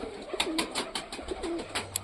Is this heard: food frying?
no